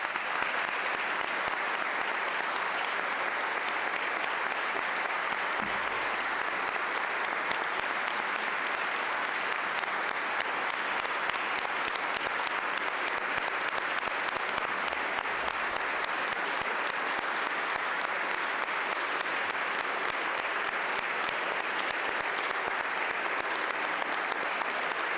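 Sustained audience applause fills a legislative chamber during Pennsylvania Gov. Josh Shapiro's budget address, a dense, even roar of many clapping hands that holds steady and loud throughout with no break.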